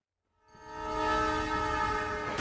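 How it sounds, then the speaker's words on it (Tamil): A train sounds its horn as it approaches, a sustained tonal blare swelling from silence to loud and holding close by. "ஓகே, ட்ரெயின் போகுது."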